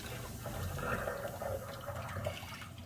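Water gushes out of an HVAC strainer's release valve under pressure, a close, soft, steady rush and splatter lasting a few seconds, with no talk.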